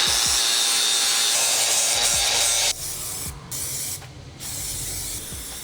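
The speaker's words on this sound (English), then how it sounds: "So I'll just go ahead, grind those and spray paint it over it." An aerosol can sprays paint over ground-down, rusty metal on a van being converted into a camper, a loud continuous hiss in short bursts that drops in level partway through, with no talking.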